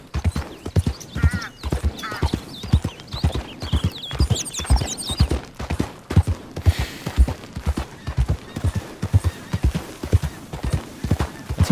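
Horse hooves clip-clop in a steady, close rhythm throughout as a horse is ridden in Red Dead Redemption 2, with a brief whinny and some background game sounds.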